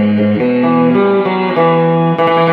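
Spring reverb from a Megatone reverb tank, with mix and dwell each set about halfway, trails a sustained chord sequence with a washy, slightly distorted tail as notes change every half second, loud and steady, with no talking.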